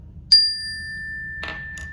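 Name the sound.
bell ringing as a quiz cue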